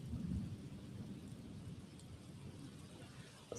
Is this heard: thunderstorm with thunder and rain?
yes